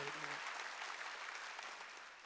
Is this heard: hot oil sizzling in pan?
no